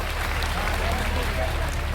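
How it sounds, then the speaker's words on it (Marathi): Applause from the audience at a Marathi kirtan gathering in Selu, a dense steady wash of clapping lasting the whole moment, with a low hum underneath. "खरखर जोरदार टाळ्या वाजा मला"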